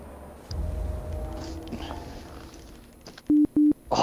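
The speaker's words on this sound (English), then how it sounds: "Somebody's charging their phone, I heard it." A phone's charging notification plays over a Destiny game stream: two identical short electronic beeps in quick succession, loud and clean, following a low background murmur.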